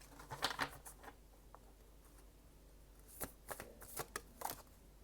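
Moonology oracle cards are shuffled by hand in quick papery riffles and flutters, arriving in two clusters with a quieter gap between them. The sound is close and soft, with no talking.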